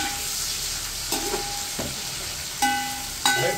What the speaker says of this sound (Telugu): ఆనియన్స్ కొంచెం ఫ్రై చేయాలి.